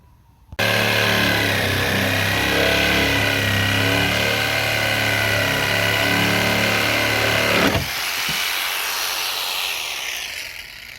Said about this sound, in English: So I'm gonna cut it and try out the window to make sure it fits okay.